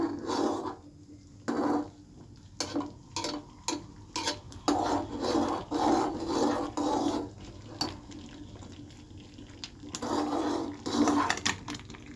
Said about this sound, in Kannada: ಇದನ್ನ ಸ್ವಲ್ಪ ಸ್ವಲ್ಪ ತಿರುಗಿಸ್ಕೊಳ್ತಾ ಹೋಗ್ತೀನಿ